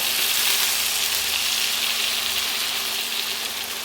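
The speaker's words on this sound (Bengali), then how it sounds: "আলুটা দেওয়ার পরে দুই থেকে তিন মিনিট ভেজে নিয়েছি এবার এখানে আমি দিয়ে দেব জল" Water poured into a pan of frying new potatoes, a loud steady hiss and sizzle held close and continuous, gradually easing slightly toward the end.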